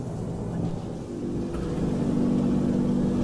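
A Yamarin motor boat engine under heavy throttle while turning to port, with a steady loud drone that builds slightly in pitch and intensity, heard up close alongside rushing water and wind.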